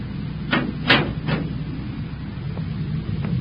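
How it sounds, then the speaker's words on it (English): A door is shut in an old-time radio drama: a few muffled thuds close together, the middle one strongest, then fainter knocks in a quiet room. "Shut the door."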